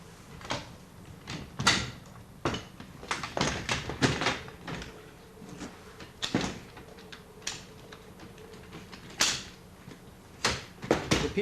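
Shock-corded 3/4-inch aluminum-magnesium alloy tubing pieces of a Feathercraft Klondike folding kayak frame being pulled open, a series of irregular close clicks, clacks and knocks spaced unevenly throughout with no talk.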